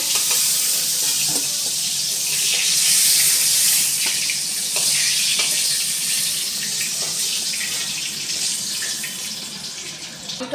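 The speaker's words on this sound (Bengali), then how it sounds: "লাল করে ভেজে নিব" Pointed gourd (potol) frying in hot oil seasoned with turmeric and salt: a steady, loud, close sizzling hiss that holds throughout, with occasional faint clinks and scrapes and no talking.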